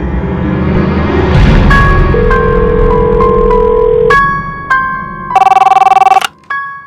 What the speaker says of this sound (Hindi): उसी वक्त मुझे उसकी फ्रेंड का फोन आया, अदिति।